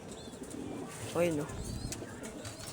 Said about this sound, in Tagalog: mga kalapating nakakulong doon